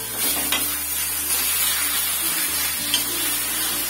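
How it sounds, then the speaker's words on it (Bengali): Taro leaves cooking in a pan, with a soft continuous sizzle and a few faint ladle stirs under a steady low hum, close up with no speech. "এরকম ভাবে একটু নাড়াচাড়া দিয়ে রান্নাটা আমি করে নিচ্ছি।"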